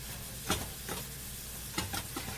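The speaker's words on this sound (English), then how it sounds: "I'm kind of scraping the bottom of my pan here." Spoon or spatula scraping the bottom of a non-cast-iron pan of sausage gravy on high heat, a few soft separate scrapes over a faint steady sizzle, quiet and close, no talk.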